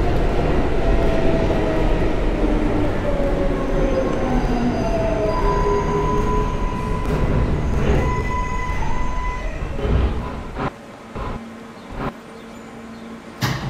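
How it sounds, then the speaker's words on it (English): A Brooklyn-bound subway L train runs in a train video game, a steady loud rumble of wheels and motor with rising whine tones, easing toward a quieter stretch with clanks near the end. "This is a Brooklyn-bound L train."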